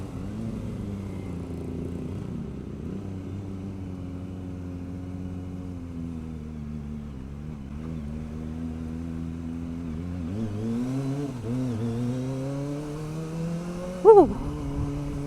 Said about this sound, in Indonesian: ini aku pakai knalpot yang Takashi DB Killer teman-teman, atau Takashi peredam, jadinya nggak bacot banget